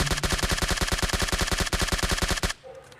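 Rapid automatic gunfire in PUBG Mobile Lite, a steady stream of evenly spaced loud shots for about two and a half seconds that stops abruptly, leaving quiet game ambience.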